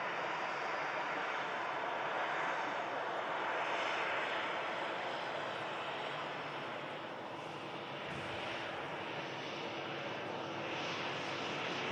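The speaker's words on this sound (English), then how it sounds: "And this beautiful 350 will be the next departure." An Airbus A350 jet rolls out from a runway on departure, its engines a broad, steady roar at a distance that holds for the whole stretch and eases slightly toward the end.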